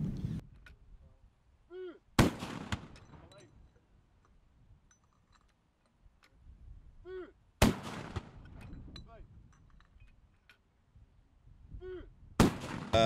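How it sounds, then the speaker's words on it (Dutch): Gun salute for the governor of Aruba fired from a naval vessel, three loud booming shots spaced several seconds apart, each with a long rolling echo, with faint distant sounds between. "En als laatst worden nog 21 schoten voor de gouverneur van het land Aruba gegeven als eerbewijs"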